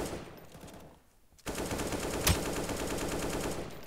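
Rapid automatic gunfire in a video game shooter, loud and close, sustained bursts broken by a short quiet gap before the firing resumes with a sharp shot.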